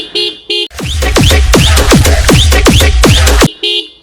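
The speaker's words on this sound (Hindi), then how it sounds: "ओ भाई फिर से बजाज वाला हॉर्न लगा दिया।" A Bajaj-style horn fitted to a vehicle blares loudly and close, starting with two short toots and then a rapid series of repeating warbling blasts, ending with another short toot.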